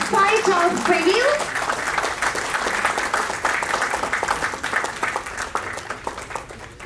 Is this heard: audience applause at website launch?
yes